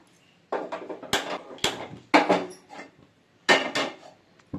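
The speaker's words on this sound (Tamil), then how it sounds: "இப்போ கடாய் வச்சுட்டேன்." Metal kadai set onto a kitchen stove while making crispy murukku, a series of sharp clanks and knocks of metal cookware at close range, spaced irregularly across a few seconds.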